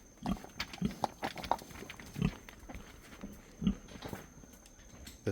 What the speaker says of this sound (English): There they are, little piggies.